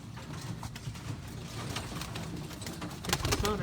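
Pigeon cooing inside a racing-pigeon loft, soft low burbling calls repeating over a steady busy background with rustling and a louder burst near the end; no talking.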